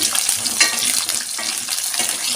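Whole small shallots frying in oil for a garlic tamarind curry, a steady close sizzle crackling throughout with a few brief stirring scrapes and no voices.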